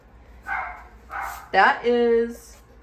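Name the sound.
German Shepherd puppy barking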